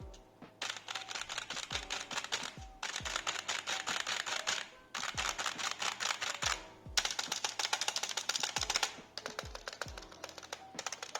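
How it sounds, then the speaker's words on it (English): Typing on a Zebronics Transformer membrane gaming keyboard, fast bursts of clattering keystrokes broken by short pauses, with occasional heavier thumps, close and clear. "let's start with the worst, which is over here my Zebronics membrane gaming mechanical keyboard"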